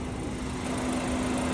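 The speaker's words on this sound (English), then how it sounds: "Yep, that's an engine." The engine of a 2024 Volkswagen Atlas Peak Edition runs at idle, giving a steady, even drone with a constant tone and no other sounds.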